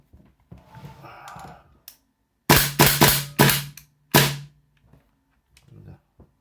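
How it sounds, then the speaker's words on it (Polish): Tactical airsoft Desert Eagle pistol with a 6.02 ZCI precision barrel fires five sharp, loud cracks, four in a quick run and one a moment later, with faint handling noise before and after. "taktyczny Desert Eagle z lufą 602 ZCI. Zobaczymy jak to strzela."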